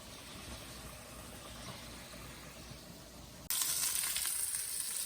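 Onions and drained ground meat sauté in a pan, a steady close sizzle that jumps abruptly louder and brighter partway through, continuing without speech.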